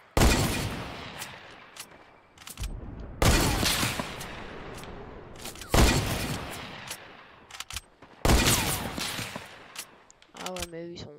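Loud gunfire bursts in a Fortnite match arrive in four separate volleys several seconds apart, each a sharp crack trailing into a dense rattle, with a short electronic tone at the end.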